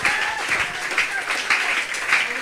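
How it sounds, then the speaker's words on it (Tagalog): A church congregation claps loudly in praise of the Lord during a worship service, a steady rippling applause of many hands lasting a couple of seconds, with faint voices mixed in. "Lakasan natin ang ating palakpak sa ating Panginoon"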